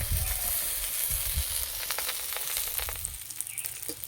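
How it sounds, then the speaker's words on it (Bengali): Food fries in a hot pan with a constant crackling sizzle, punctuated by occasional stirring scrapes and pops, close up and fairly loud; paneer-stuffed bottle gourd leaf rolls. "এই যে ভাজা হচ্ছে, যা সুন্দর গন্ধ বেরিয়েছে।"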